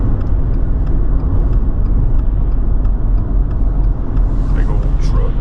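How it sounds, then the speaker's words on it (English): A big truck passes on an Oregon highway in the Cascades, its steady low rumble filling the cabin and roadway noise continuous throughout, with a brief hiss near the end. "Big old truck."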